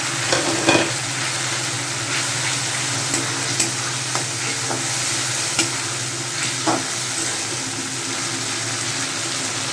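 Cumin and chili paste fry in a pan with a little water for a fish-head muri ghonto, giving a steady close sizzle with occasional soft clinks and scrapes of stirring.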